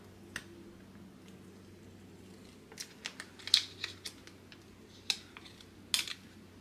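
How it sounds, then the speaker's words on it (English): 3M adhesive tape backing being peeled off a laser-cut acrylic Halloween countdown sign: faint, scattered crinkly ticks and soft snaps, bunching into a few sharper bursts near the end over a low steady hum. "Now we can go ahead and peel the 3M tape off the back as well."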